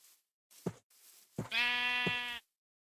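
A sheep in the blocky survival game Minecraft bleats: two short soft cries followed by one long, clear, wavering bleat, heard alone and close.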